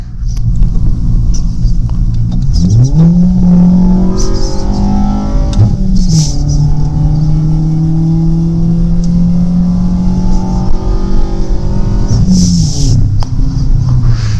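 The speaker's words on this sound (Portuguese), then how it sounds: "Eu vou fazer um teste com vocês, vou dar uma acelerada para ver se vocês conseguem ver também." A car engine fitted with a sports air filter and sports exhaust revs loudly up close with a deep throaty exhaust rumble, rising twice in pitch and holding before dropping back to idle.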